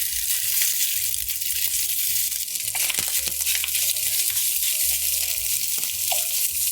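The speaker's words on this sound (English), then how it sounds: "we're gonna add just a little bit of oil to get the sausage going. And we're gonna add our crumbled sausage." Crumbled sausage sizzling in a hot pan with a little oil, a continuous close crackle and hiss with occasional light pops and crinkly shifts, no talking.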